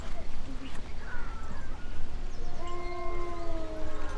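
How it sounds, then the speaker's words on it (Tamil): Jackals howling in the open: several wavering, overlapping howls drawn out over a constant rough background noise. "என்ன சத்தம் பாலா? அதுவா, இங்கே நிறைய நரி இருக்கும்."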